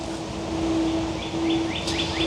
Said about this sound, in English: There's a very nice bird song.